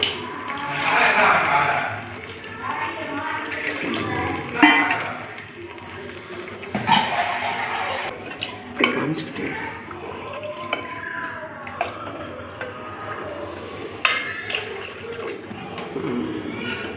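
Tamarind water poured into a pot of fish curry, a splashy liquid pour that comes and goes in bursts with drips, heard close alongside a talking voice.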